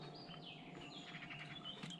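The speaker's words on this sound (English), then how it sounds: "Listen to the birds." Birds singing outdoors on a beautiful day at a boat show campsite, a few faint chirps and short calls over quiet background hum.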